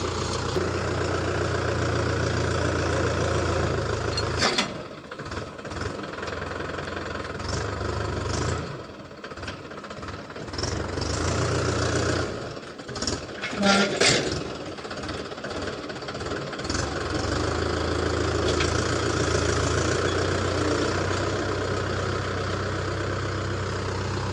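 A tractor engine idles steadily at close range with a dense low knocking chug, dipping briefly in level a few times before settling back to its even throb.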